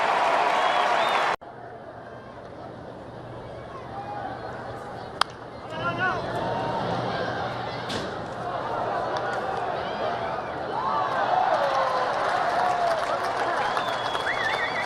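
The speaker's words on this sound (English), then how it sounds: "there's a cheer from out there" Crowd at a baseball stadium cheering, a broad wash of applause and roar that swells after a brief quiet moment, continuing at moderate loudness with voices talking over it.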